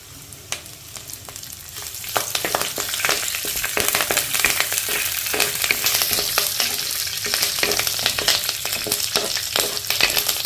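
Curry leaves hit hot oil as tempering for dondakaya pesarapappu curry, bursting into loud, dense crackling and spitting that builds after a couple of seconds and stays intense and continuous, close up with no voices.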